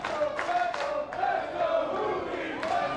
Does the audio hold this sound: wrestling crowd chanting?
yes